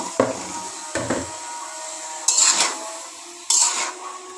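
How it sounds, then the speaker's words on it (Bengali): A utensil stirs pumpkin greens and stems in a pan with shrimp, making four separate scraping, clattering strokes against the metal that stand out over a quiet background. "কিছুক্ষণ নাড়াচাড়া করে এটাকে ঢেকে দিব"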